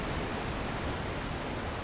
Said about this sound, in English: A lot of mist in the waterfall